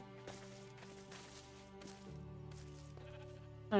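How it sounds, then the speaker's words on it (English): A Minecraft sheep bleats a few times in short wavering calls, faint against quiet background music, with a louder sound starting abruptly at the end. "Hello, sheep."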